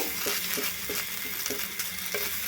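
Ridge gourd paste stirred in a wok in oil, a soft steady sizzle with regular scraping strokes of a spatula about every third of a second, close and without speech.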